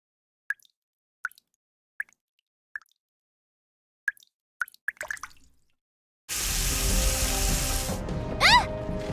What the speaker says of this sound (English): Water's coming from the ceiling!